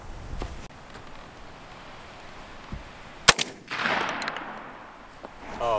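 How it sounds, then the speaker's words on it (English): A Retay Masai Mara 20 gauge shotgun fires a 3-inch Longbeard XR shell of six shot outdoors, giving a single sharp, loud report with a brief echo, followed by rustling and faint background noise. "We're gonna be shooting some Longbeard XRs, ounce and a quarter, six shot, 3 inch, so 20 yards."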